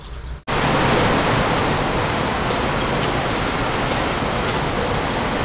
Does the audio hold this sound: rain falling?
yes